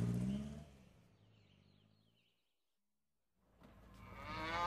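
A single long, low moo from cattle at a livestock market, close and loud, fading into near silence before other farm noise rises again.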